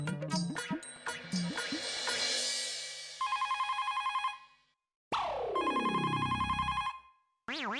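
A telephone rings in repeated electronic trills, preceded by clattering household sounds and a falling whoosh; the rings are loud and close.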